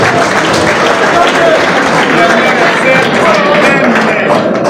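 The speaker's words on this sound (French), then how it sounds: "Applaudissez encore une fois." An audience at a political gathering of the Grande Province Orientale movement applauds, giving a dense, continuous wash of clapping that stays loud and even throughout, with a murmur of voices mixed in.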